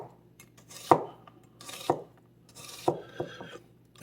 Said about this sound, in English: And now I got an onion that I'm going to slice up a little bit.